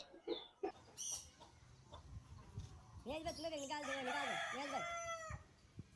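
A rooster crows loudly and close by in one long drawn-out call, following scattered clucks, bird chirps and background noise.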